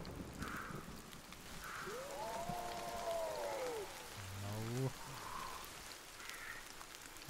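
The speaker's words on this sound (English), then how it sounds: "Aw man, it starts raining." Steady rain falls in the survival video game Sons of the Forest, a continuous soft hiss with a few faint tonal game sounds drifting over it.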